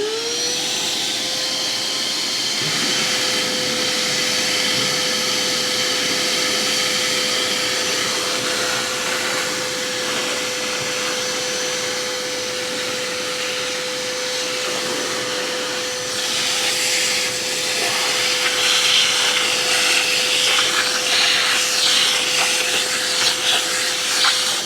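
A VACMASTER 12-gallon 5 peak HP wet/dry shop vacuum roars steadily and loudly throughout, with a constant motor whine and airy rush that shifts slightly near the end.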